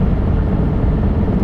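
Ailing car making a horrible noise, a loud, steady low rumble with a droning engine tone, close and continuous.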